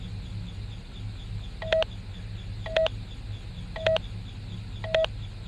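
Four evenly spaced electronic keypad beeps ring out about a second apart as a name is typed in Five Nights at Freddy's: Sister Location, over a faint low ambient hum with no voices.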